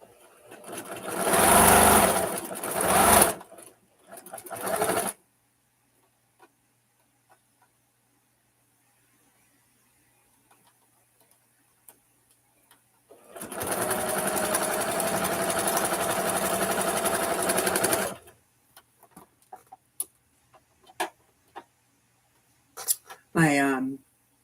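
A home sewing machine stitches with thread it handles poorly, running in two long loud bursts with a short start, separated by near-silent pauses and a few clicks, ending with a brief whirring buzz.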